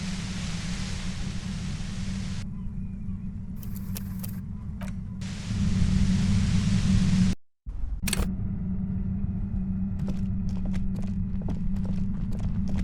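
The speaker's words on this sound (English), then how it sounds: "The violet-white noise becomes even more overwhelming closer to the compressor." A loud, steady hiss-and-hum from a compressor in the Disco Elysium video game runs on with low droning tones, broken by a brief dropout and occasional clicks, and no one speaks.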